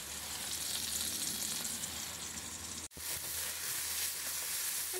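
Water spinach frying in a pan with plenty of chopped garlic gives a steady, close, hissing sizzle that cuts out for a moment and then resumes at the same level.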